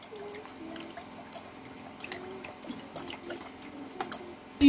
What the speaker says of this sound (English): You keep stirring until your water becomes clear.